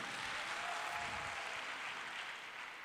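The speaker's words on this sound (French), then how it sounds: "Si vous avez apprécié, on peut encore applaudir ce travail." Audience applause at a closing ceremony, a dense continuous wash of clapping from a large hall crowd, steady and fairly distant, fading slightly toward the end.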